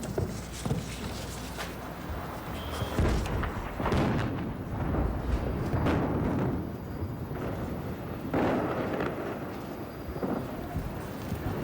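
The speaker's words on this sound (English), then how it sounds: "Anti-aircraft fire mixed with incoming hits." Anti-aircraft fire and incoming strikes rumble across Baghdad at night, with a dense, continuous roar broken by repeated heavy booming impacts and bursts that sound distant but powerful.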